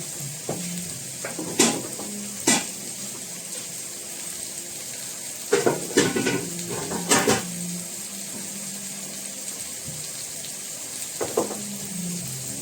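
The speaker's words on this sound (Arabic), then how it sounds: "كل ده يا جماعة ايه هقلبه على بعض" Spiced minced meat is turned over in a hot pan with a spoon, giving a handful of short scraping, clattering stirs over a steady low sizzle, with quiet gaps between them.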